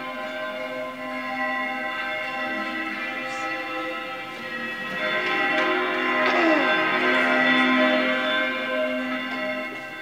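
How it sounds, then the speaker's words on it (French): Village church bells ring out at Christmas, several tuned bells sounding in an overlapping, sustained peal that swells a little louder halfway through, steady and fairly close with no talk. "Dehors, les cloches s'étaient mises à sonner à l'église du village."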